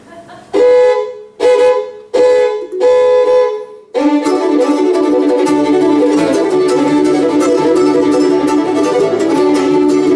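Three short honk-like bursts, then one long continuous blast, an imitation of a car horn played loud and close.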